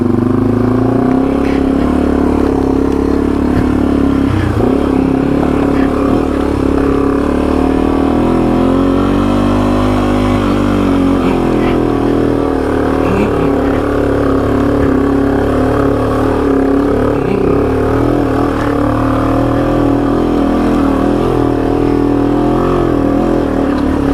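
A Yamaha TW200 dual sport motorcycle climbs a steep muddy hill in Michigan's Upper Peninsula, its engine loud, close and labouring throughout with shifting revs.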